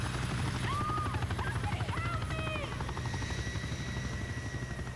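A helicopter in the James Bond 007: From Russia with Love video game drones steadily with a rhythmic rotor chop, while short electronic game tones chirp over it.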